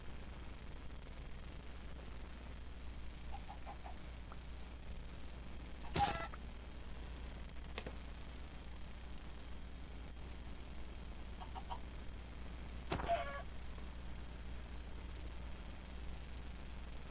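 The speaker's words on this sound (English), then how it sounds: "Come here, chicken." Chicken clucking in a block-building video game, a few short clucks spaced apart against a quiet steady background hum, with no talk over them.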